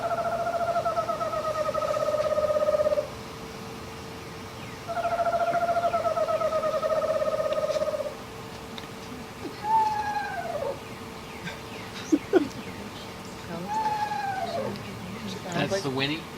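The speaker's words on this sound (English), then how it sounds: "there's also a whinny call that the female uses as an alarm call" A recording of a female owl's whinny alarm call plays twice as long, quavering, descending trills, followed by shorter, fainter hoots and clicks under a steady low hum.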